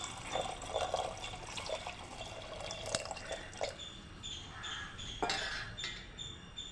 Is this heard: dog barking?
no